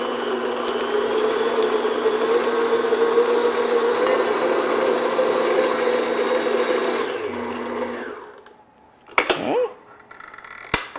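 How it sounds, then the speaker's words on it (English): An electric mixer beats butter in a bowl with a steady whirring drone that runs continuously for about eight seconds. It then cuts off, followed by a few scraping knocks and clatters. "Now first I'm just going to beat the butter, just until it gets nice and smooth."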